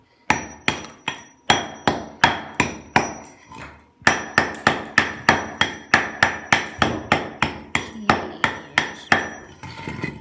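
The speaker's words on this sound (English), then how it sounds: "Now I'm going to chop off that end using this part of the hammer" Repeated sharp hammer blows striking a concrete block, dozens of loud, evenly spaced impacts with a brief pause partway through.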